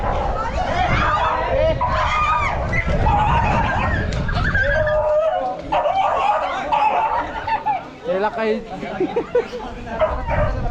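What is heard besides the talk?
small dogs barking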